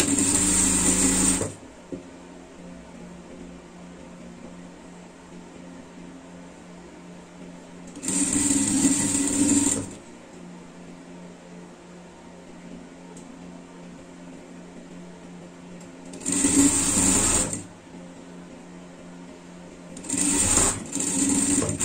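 Sewing machine joining upper and lower back pieces of a dog's tracksuit jacket, running in several separate bursts of steady fast whirring stitches with quiet gaps between, close up and alone.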